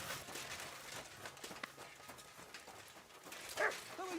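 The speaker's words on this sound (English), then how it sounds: "Who are you barking at, doggy?" A dog barks in Kingdom Come Deliverance II, a few quick yips and barks mixed with footsteps and ambient game sound, with one sharper bark standing out near the end.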